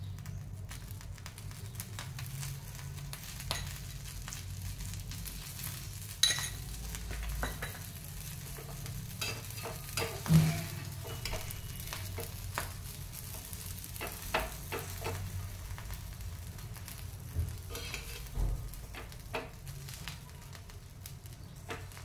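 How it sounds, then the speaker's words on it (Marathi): Pav buns pressed and toasting in ghee on a pan for Kutchi dabeli give off a steady, soft sizzle throughout, with faint scattered crackles and occasional light clicks. "पाव छान असे दाबून भाजून घ्यायचे."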